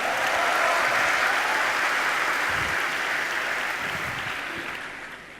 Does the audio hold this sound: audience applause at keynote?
yes